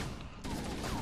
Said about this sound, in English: Eat concentrated assault rifle.